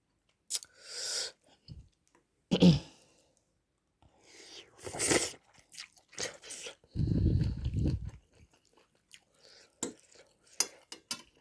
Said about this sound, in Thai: ค่อยๆเคี้ยว